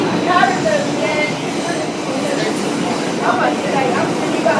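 Steady rumble of a moving subway or metro train carriage, loud and continuous, with faint rattling and a brief squeal, while voices talk in the background throughout.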